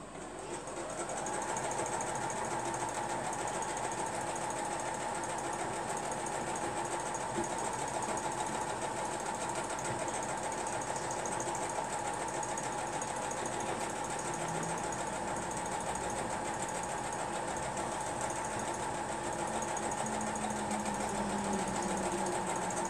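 A Diamond 6 sewing machine running continuously at steady speed, a loud, even mechanical whir with motor hum that carries unbroken from start to finish with no talking.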